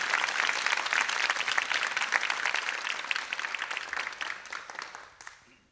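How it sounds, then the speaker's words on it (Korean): An audience at a concert-style lecture event on low birth rates claps for an incoming speaker, steady and full for several seconds before fading out, with no talk over it. "박수로 청하겠습니다."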